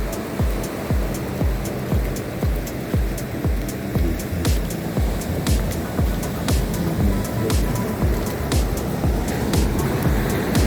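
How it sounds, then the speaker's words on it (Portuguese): Ocean waves break and wash steadily onto a sandy beach at Praia da Reserva, a preserved stretch of shore, with a continuous loud roar of surf and repeated crashing surges and no voices. "Aquela parte onde o mar tá mais mexidinho ali."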